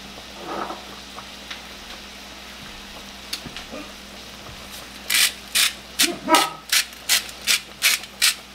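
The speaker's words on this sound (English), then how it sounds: "Add a little bit of salt and pepper." Salt and pepper grinders crank over cooking onions in a regular series of gritty ratcheting bursts, about eight in a row, close and loud over a faint pan sizzle.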